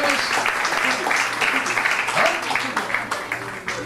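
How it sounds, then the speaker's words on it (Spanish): Audience at a Sunday civic event clapping, an even patter of applause with voices talking over it, moderately loud and fading slightly toward the end. "Démosles un aplauso"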